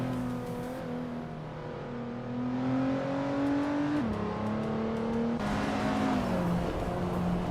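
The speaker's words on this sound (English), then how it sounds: "Maya is driving a 1997 Audi S4, starting from the 10th position." A 1997 Audi S4 race car engine in a racing video game drones steadily, its pitch rising and falling through gear changes, and it grows slightly louder partway through with no one speaking.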